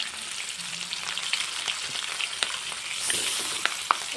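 Silver carp pieces being turned and fried in mustard oil until reddish: steady close sizzle with scattered sharp pops and crackles, no speech.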